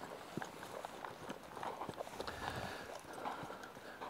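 A horse trots with a steady, rhythmic clip-clop of hooves on the ground, evenly paced and moderately close, with no talking.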